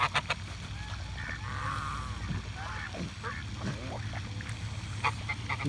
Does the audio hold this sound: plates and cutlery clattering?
no